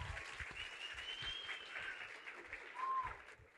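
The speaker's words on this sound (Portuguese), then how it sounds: "Aplausos." Applause from an audience at a lively lecture class in Brazil, a sustained patter of many hands clapping at moderate distance that swells slightly near the end.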